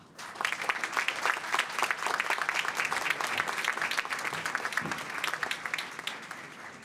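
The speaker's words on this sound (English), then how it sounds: "Please give a round of applause to all of our degree recipients." Sustained audience applause at a university advanced degree ceremony for humanities, arts and social sciences graduates, dense steady clapping of a large crowd filling the hall for several seconds at even loudness.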